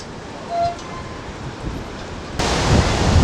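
Rough waves on Lake Erie wash in at Clifton Beach in Cleveland, a steady broadband surf roar mixed with wind that grows noticeably louder near the end, with no talking.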